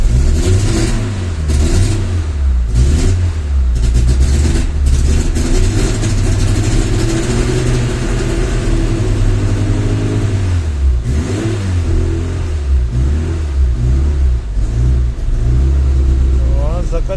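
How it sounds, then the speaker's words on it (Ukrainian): A car engine, just switched over to petrol, revs up and down loudly and close as the gas pedal is pressed, with someone speaking over the changing engine note. "Так, це переключилось на бензин, я так розумію. Газ. І даємо на педальку газа."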